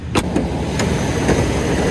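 A small car with a tiny engine and a newly fitted water pump runs close by, giving a steady, even idle hum with a few faint clicks and no talking.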